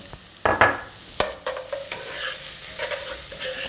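Cubed cèpe mushrooms sweat in a pan, sizzling gently while being stirred, with a few sharp scraping and clattering stirs near the start over a soft, steady frying hiss.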